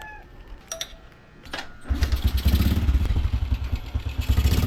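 Honda XRM110 motorcycle kick-started after carburetor and throttle cable work: a few clicks and clatters, then the engine catches on one kick and settles into a loud, steady, throbbing idle close by.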